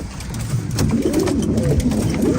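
Tumbler pigeons coo inside a coop, soft rolling throaty calls overlapping one another at close range with a steady low background murmur.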